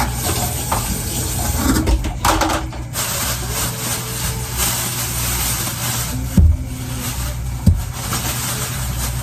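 Mangoes rinsed under a running kitchen tap, a steady broadband rush of water with a couple of brief knocks as fruit is handled, no talk.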